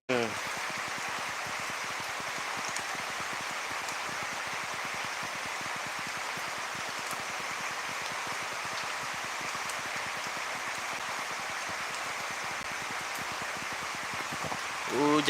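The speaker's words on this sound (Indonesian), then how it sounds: "Hujan nih guys, hujan." Rain falls steadily around a house, making an even, continuous hiss that holds at the same level from start to finish, with no voices over it.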